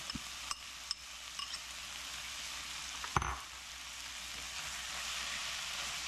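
Corn sizzling in a hot pan for a Tex-Mex dish, a soft, steady frying hiss with a few clicks and one sharp clatter of a utensil partway through.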